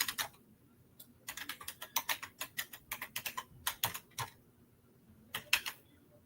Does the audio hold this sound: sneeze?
no